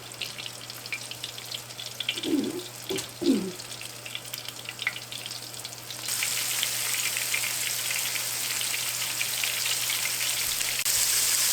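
Beef chunks frying in a hot pan: a quiet crackling sizzle with a few brief thumps as meat goes in, then a louder, fuller sizzle that holds steady to the end.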